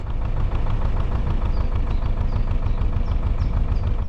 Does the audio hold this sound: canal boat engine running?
yes